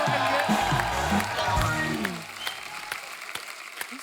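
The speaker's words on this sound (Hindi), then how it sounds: "जोरदार तालियां हमारे मेहमानों के लिए" Studio audience applauding and cheering for the guests on a comedy talk show, a dense burst of clapping with whoops under a loud voice that fades after two seconds, leaving lighter scattered claps.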